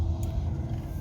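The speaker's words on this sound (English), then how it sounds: "A little bit of a whine from the engine." Eleksa electric city car underway with windows closed, a steady low rumble of road and drivetrain noise filling the cabin, the motor's faint whine blended in, continuous and close, no talking.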